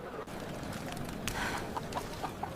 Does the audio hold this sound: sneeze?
no